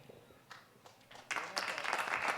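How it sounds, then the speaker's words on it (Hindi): Applause builds from scattered claps into fuller clapping from an audience at a Jain monk's Panchkalyanak religious gathering in Nabarangpur, Odisha, rising in loudness over a couple of seconds. "ताली बजाइए"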